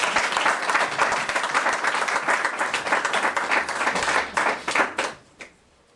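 A church congregation breaks into sustained applause and acclamation, dense clapping filling the room for several seconds before fading out near the end.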